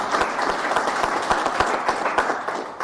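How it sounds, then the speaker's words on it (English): Audience applause at a live televised event in Kenya: dense, steady clapping from a crowd fills the whole stretch with no talking, with a few sharper individual claps standing out near the front. "I want you to clap for everybody who did that."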